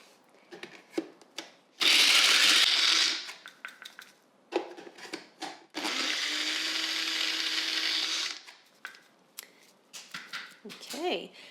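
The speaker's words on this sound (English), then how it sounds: "So I'll just give this a big blend up." A blender grinds nuts for a baklava topping in two loud whirring bursts of about one and two and a half seconds, with a person talking briefly between and around them.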